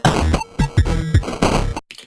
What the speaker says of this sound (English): and then the sampler rate reduction, which a lot of people refer to as bit crushing, sounds like this.